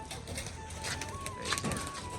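Pigeons coo softly in short repeated calls at close range, with a faint steady background hum and no talking.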